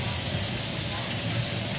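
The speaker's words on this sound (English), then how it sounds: "Sizzling. Looks delicious." Pork belly sizzling on a Korean barbecue grill, a dense steady hiss filling the short moment without a break.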